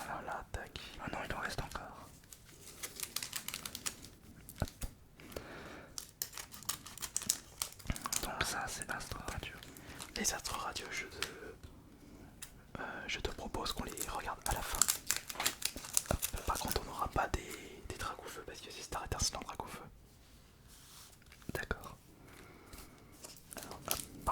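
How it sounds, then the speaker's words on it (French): Pokémon trading cards being pulled from a pack and handled, close crinkling, rustling and soft tapping in irregular bursts, with whispering voices throughout. "J'ai toujours du mal à sortir toutes les cartes là"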